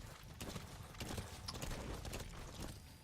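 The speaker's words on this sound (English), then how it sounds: "You're going to want to call in your horse." Horse hooves in Metal Gear Solid V, a rhythmic clip-clop of a galloping mount steady through the whole moment, mixed with in-game ambience and no talk.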